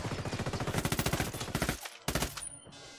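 Fast automatic gunfire in the video game Tom Clancy's Ghost Recon Wildlands, a dense, loud burst of rapid shots that breaks off, followed by a shorter blast and a fading tail.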